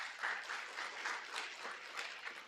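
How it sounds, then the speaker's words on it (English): An audience at a university ethics training session for education students gives a round of applause, a soft and somewhat distant patter of many hands that swells and eases slightly throughout. "let's give them a round of applause"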